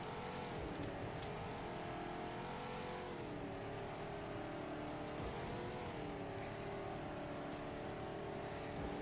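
Racing engine from the video game Flathead Fury, a steady droning motor with shifting tonal harmonics held at constant loudness throughout, no talking.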